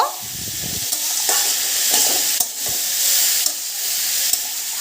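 A spoon stirs ash gourd curry with salt in a pan over steady sizzling, with a few scraping knocks against the pan and no talking.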